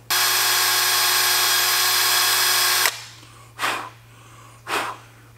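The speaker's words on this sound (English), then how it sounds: "I'm going to start this scary process by drilling a pilot hole." A power drill whines steadily for about three seconds, drilling a pilot hole in a BMW E92 M3 to fit a tow hook, then stops; two short breathy bursts follow in the quiet.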